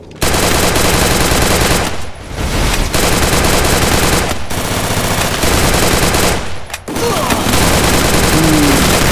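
Video game gunfire in a squad-versus-squad battle, dense rapid automatic bursts, loud and nearly continuous with brief gaps between volleys.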